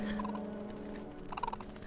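A small bird calling in the survival game Enshrouded, two brief bursts of chirping notes separated by a pause over a steady droning ambience.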